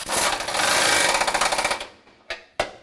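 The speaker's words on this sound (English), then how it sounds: "Wrench on the bottom, 15 millimeter on the top." Ratchet wrench tightening a 15 mm bumper bracket bolt on a 2003-2021 Chevrolet Express 3500: a close, steady rasping ratchet run for almost two seconds, then two sharp clicks.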